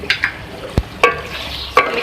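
Aloo keema frying in a pan with fresh coriander, stirred in a few distinct scraping strokes over a soft sizzle, close and alone with no talk.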